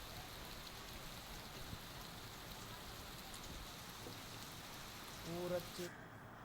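Continuous rain in Chhattisgarh, where hail has also fallen, a faint, steady patter on surfaces with a brief louder burst near the end.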